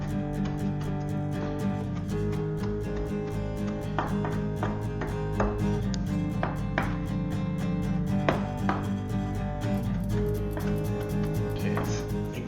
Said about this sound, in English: I wanted fresh cilantro, so I'm just going to chop some of this up before we get to plating.